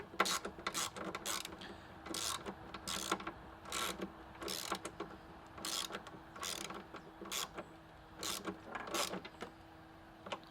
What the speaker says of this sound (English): put the bolt through, put the bushing on, and then just tighten down the nut again on the other side here